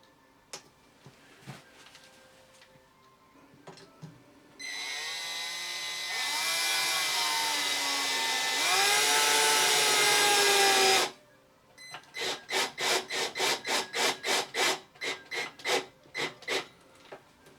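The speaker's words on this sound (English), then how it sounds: "And then we're just going to put a wood screw straight in there." Wood screw driven in with a power drill while fitting a Lindam safety gate: a sustained whining motor run that rises in pitch and strains, then a rapid series of short stuttering drill pulses.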